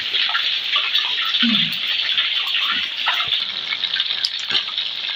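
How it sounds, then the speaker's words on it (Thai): Red snapper sizzling in hot oil in a home kitchen: a steady, bright hiss and crackle that holds at an even level throughout, with occasional soft pops and a brief low bubbling moment. "เราจะทำการทอดปลาไปพักหนึ่งแล้ว"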